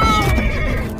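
A horse neighs loudly and close, a single sustained whinny filling the whole moment.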